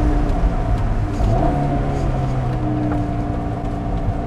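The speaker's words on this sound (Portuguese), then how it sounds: "você ouviu o som desse VTEC acertando o giro" A Honda Civic Del Sol with a VTEC engine runs at a steady, loud idle or low rev, its rumble continuous and close, with a slight rise in pitch partway through.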